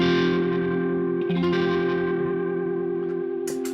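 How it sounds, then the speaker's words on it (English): Electric guitar run through a chorus and univibe-style modulation effect, sustaining wavering chords with a swirling, slightly distorted tone, steady and loud throughout with a brief pick attack near the end. "I can go for more of like a chorus, maybe like a univibe type sound."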